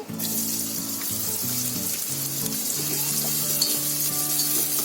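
Chopped onion hitting hot oil in a kadhai, giving a steady close sizzle that holds evenly throughout, with a low tonal hum underneath and no talking.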